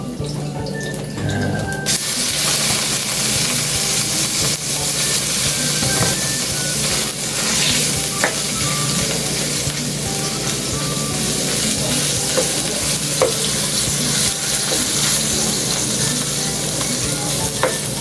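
Meat frying for teriyaki yaki sushi in a pan with onions, a loud continuous close sizzle with occasional stirring clatter throughout.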